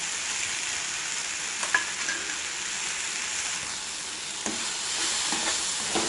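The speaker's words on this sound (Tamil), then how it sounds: "புதினாவில் அந்த பச்சை ஸ்மெல் போகிறது வரைக்கும் கொஞ்சம் நல்லா வதக்கிக்கோங்க." Soft tomatoes with mint leaves and dried red chillies sauté in a pan for ivy gourd chutney, a steady low sizzle broken by a few light clicks of the stirring spoon.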